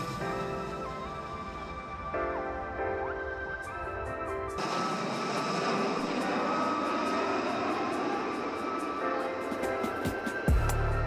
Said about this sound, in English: This is one of the most difficult planes to land.